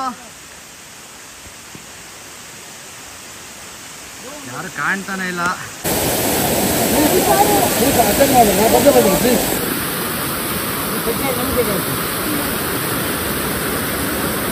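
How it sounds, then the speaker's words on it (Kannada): Steady broadband rush of a waterfall on the Nethravathi Peak trek in wet weather, swelling louder midway and continuing as a constant near roar, with someone talking briefly over it at the start. "ಫಾಲ್ಸ್ ಇಲ್ಲೇ ಇದೆಯಲ್ಲ ಬ್ರೋ, ಇದೇ ಸೌಂಡ್ ಬ್ರೋ ಕೇಳ್ತಿದ್ದು"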